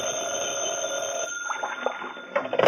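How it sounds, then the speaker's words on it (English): An office telephone rings in an old radio drama, a steady electric bell tone holding for over a second before fading into quieter room sounds, followed by a few faint later rings and clicks. "the phone rang"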